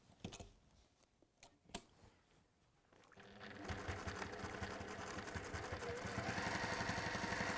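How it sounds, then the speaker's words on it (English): Sewing machine stitching through several layers of fabric: a few handling taps, then the motor starts and runs with a steady rapid needle chatter that builds slightly in loudness, close by and alone. "let's go to the machine and let's stitch down there, and you will stitch all the way"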